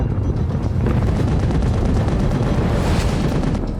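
Artillery shell explosions and gunfire across the Verdun battlefield merge into a dense, continuous roar of blasts and rumbling, loud and unbroken, with no voices.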